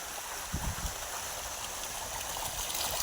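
Irrigation water flows steadily into a farm field's beds ahead of cotton sowing, a continuous close rushing and gurgling with no other sounds.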